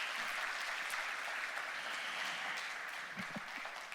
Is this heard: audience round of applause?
yes